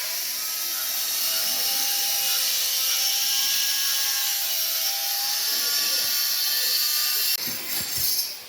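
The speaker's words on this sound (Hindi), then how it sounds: "एक्चुअली कुछ कंस्ट्रक्शन का काम चल रहा है यहाँ" Construction work runs near the Balmuri waterfall outside Mysore, a steady loud whirring, grinding tool noise that holds for several seconds before ending in a few heavy bumps.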